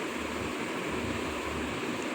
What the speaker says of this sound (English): A forceful gel of water is introduced in the tank from the lower side